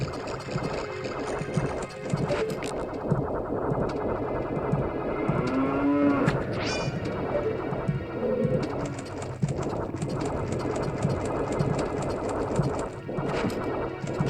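A cow moos in Zelda: Ocarina of Time 3D, with a drawn-out bellow near the middle amid busy game effects, crashes and bird-like chirps. No talk.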